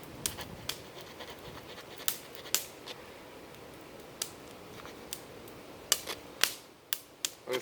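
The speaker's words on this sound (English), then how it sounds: "I'm going to use this Swiss tool because it's quicker. I'm going to cut right here." Wood being cut with a Swiss multitool outdoors while making a spear, a series of sharp dry snapping cuts and scrapes at irregular intervals, clustering more densely toward the end, close and otherwise quiet.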